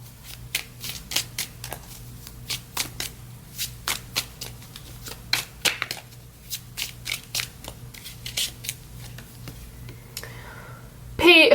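Tarot cards being shuffled in repeated quick riffling bursts, close and fairly steady over a low background hum, ending in a brief louder clatter.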